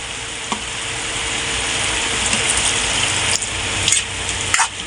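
Squid adobo being stirred in a frying pan, a continuous loud sizzle with a few sharp scrapes and clinks of the utensil against the pan near the end.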